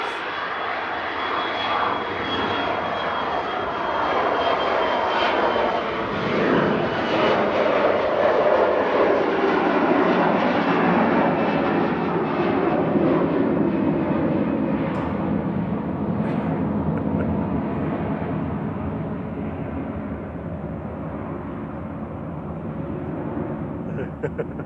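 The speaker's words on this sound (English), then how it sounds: "KLM departing back to Amsterdam with flight 1038." KLM Embraer E175 jet departing Manchester Airport on its roll and climb-out, a loud sustained roar that swells and slowly fades as it pulls away, with people talking faintly underneath.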